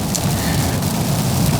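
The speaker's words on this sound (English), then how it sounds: "it's a little loud right now because it's raining" Steady rain falling outside, a loud, continuous hiss of drops with no break over its short span and no voices.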